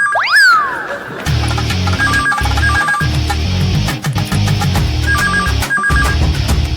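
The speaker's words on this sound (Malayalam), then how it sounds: "അവിടെ ഫോൺ അടിക്കുന്നു" A telephone rings in two short bursts of trilling rings during a TV comedy scene, after an opening boing and over a busy, thumping music bed.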